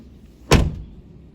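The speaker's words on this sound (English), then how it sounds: "has automatic doors" The automatic sliding door of a Suzuki Every kei van, a single short, close thud-like slide and catch about halfway through, with quiet surroundings before and after.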